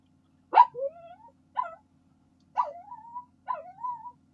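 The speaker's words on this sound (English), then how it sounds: "I don't know whose dog that is because I think half of you have a dog." A dog whimpers and yips during an online committee meeting, four short whiny cries with rising, drawn-out tails spaced about a second apart, fairly close and alone without talk.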